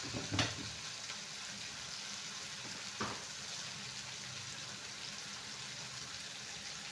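Asafoetida sizzling in hot oil in a pan alongside mint, curry leaves and coriander, a steady soft frying hiss with two brief louder crackles near the start, no talk.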